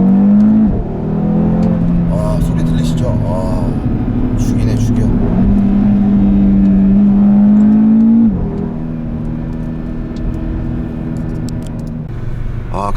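An Audi RS3's 400-horsepower five-cylinder engine revs hard under acceleration with a loud, sustained, rising growl and a brief dip as it shifts, while people talk inside the car over it.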